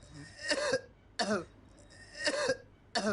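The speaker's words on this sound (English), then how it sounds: "I wake up with this horrible cough." A smoker's harsh coughing comes in four separate bursts, close and loud, with short quiet gaps between them.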